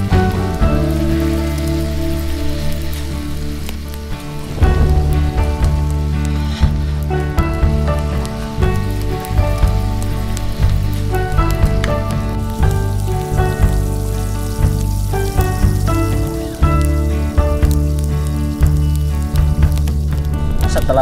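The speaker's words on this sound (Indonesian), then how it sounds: "Setelah ini kita goreng, tapi nanti kita agak gepengin aja biar cepat matang." A flattened seasoned mixture made with coconut milk fries in a pan with a loud, continuous crackling sizzle throughout, steady tonal sounds running underneath and no voices.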